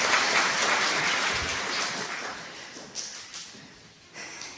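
A church congregation applauds in a dense, sustained wash of clapping that gradually thins out, with a few louder individual claps near the end.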